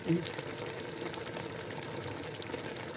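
A pot of eggplant simmers quietly, giving off a soft, continuous bubbling hiss from start to finish.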